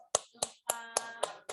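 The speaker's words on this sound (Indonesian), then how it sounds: "Tepuk tangan untuk kita semuanya." Classroom clapping of hands in six sharp, evenly spaced bursts, close and crisp, with a faint voice briefly between them.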